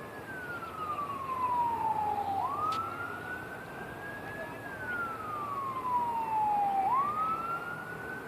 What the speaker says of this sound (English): Hear the fire truck coming.